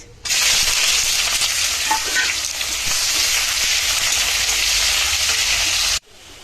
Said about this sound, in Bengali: তেল গরম হয়েছে, তেজপাতা শুকনো মরিচ দিয়েছি, পেঁয়াজ